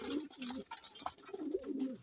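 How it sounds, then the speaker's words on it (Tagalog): A pigeon or dove cooing close up, several soft, low rolling coos repeated in a loose rhythm with no other sound. "Ay, magandang ibon yan."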